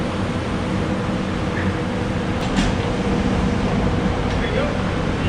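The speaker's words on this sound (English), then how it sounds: "now we're gonna head back down that crazy tram" A mountain tram rolls downhill with a steady, loud rumble and whooshing mechanical noise, broken by a brief metallic squeak midway.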